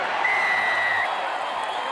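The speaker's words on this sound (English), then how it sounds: "Your fans in the Western Stand about to cheer this home." A stadium crowd at the 2011 Queensland Cup rugby league grand final roars and cheers in a sustained, dense wash of noise from the Western Stand, with a commentator's voice faintly over it.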